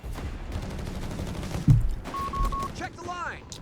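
Gunfire crackles through a Company of Heroes 3 battle between Afrika Korps and US forces, scattered shots and a sharp burst over busy game noise, with a mechanical whir and sweeping tones near the end.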